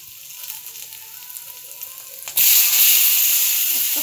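Paneer with turmeric and chili powder dropping into a hot pan, a quiet background giving way to a sudden loud, sustained sizzle and hiss partway through.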